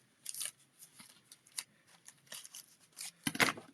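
Scissors snipping through material, a series of crisp, close cutting snips at an irregular pace with quiet gaps between them and a louder final cut.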